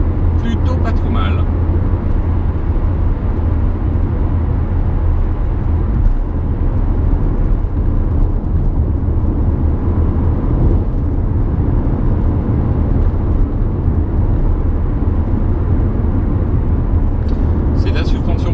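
A 2019 Peugeot 2008 1.2 PureTech 82 with a three-cylinder petrol engine hums steadily on the move, a loud, even cabin drone with road noise that runs under someone talking throughout.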